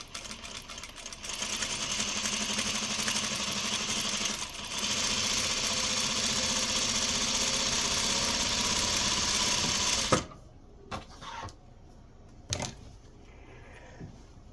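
A sewing machine stitches pinned quilt fabric in a steady, fast mechanical whir for about ten seconds, then stops, leaving a few handling clicks and thumps.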